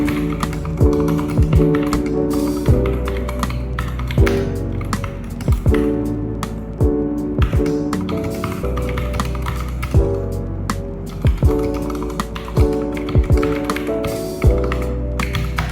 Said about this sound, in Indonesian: Kurang lebih seperti ini suara dari keycaps dengan Milky Red Switch.